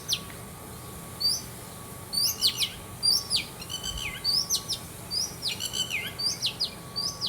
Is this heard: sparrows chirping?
yes